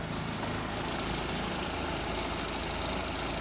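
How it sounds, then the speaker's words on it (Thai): A car engine runs steadily at idle, a constant low rumble filling the whole stretch, close and even with no talking. "โอ้เสียงรถมาแล้วลูกคุณพ่อมาแล้ว"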